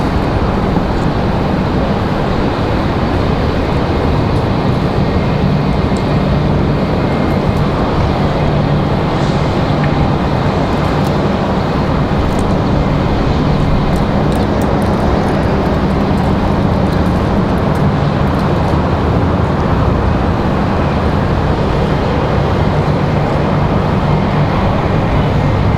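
A Republic Airways Embraer E175 jet at Raleigh Durham airport produces a continuous, loud, broad engine roar that holds steady throughout, with no voices over it.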